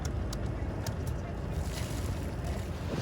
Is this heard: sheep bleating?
no